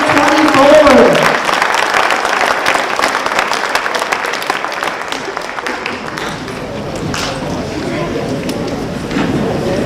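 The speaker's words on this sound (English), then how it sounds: "can we give them another round of applause for your graduating class of" An audience applauds at a high school choir concert for the graduating class, a dense burst of clapping that swells briefly and then fades into lighter, scattered claps with a voice speaking over it.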